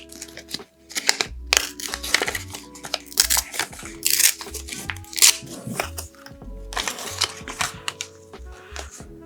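Paper being cut in half for a vintage-style bullet journal page gives a quick series of crisp, crunchy snips and rustles, close and fairly loud, over a steady low backing.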